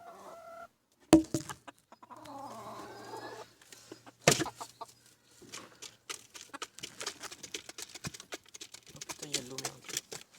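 Chickens and a rooster with a slightly damaged comb cluck at a farm, scattered clucks and calls close by amid sharp knocks and handling noises, with a person talking.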